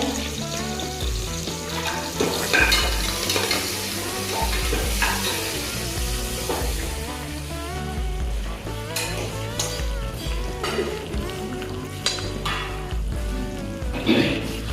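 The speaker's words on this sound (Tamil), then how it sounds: "பொரி நல்லா சூடாயிடான்னு கொஞ்சம் லைட்டா பார்த்துக்கோங்க" Puffed rice and garlic stirred and roasted in a pan, a continuous dry rustling and scraping with crackling sizzle, close and steady throughout.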